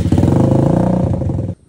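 Motorcycle with an open pipe exhaust revving hard up close, a loud, rough, pulsing blat that holds steady for over a second before cutting off abruptly.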